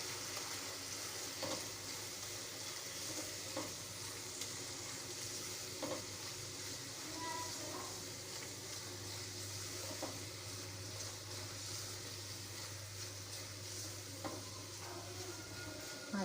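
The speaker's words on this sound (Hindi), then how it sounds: "2 से 3 मिनट हम इसको मसाले के भूनेंगे अच्छी तरह।" Whole spices with turmeric, red chili and crushed red pepper frying with white chickpeas in a pan, a steady close sizzle with occasional stirring scrapes and clicks, no voices.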